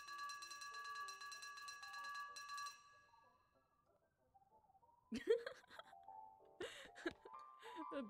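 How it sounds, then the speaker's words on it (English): A bell in the video game West of Loathing rings in bright, clanging bursts after a ringing tonal passage and a short quiet gap, with a second cluster of strikes near the end. "The bell is so funny."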